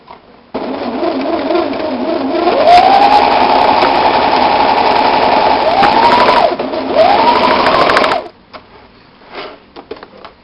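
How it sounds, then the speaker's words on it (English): A sewing machine runs steadily for about eight seconds, stitching the seam of a fabric tube for a bikini tube top, loud and close, with a few brief changes in pitch as it speeds and slows, then stops to quiet handling. "So just sew all the way around except for one part."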